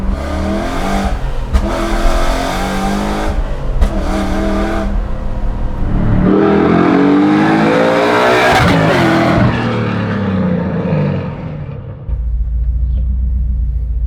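Coyote V8-swapped 1967 Ford F100 pro touring truck driven hard, loud engine roaring and revving up through acceleration with rumbling exhaust and brief tire noise, close and dominant throughout.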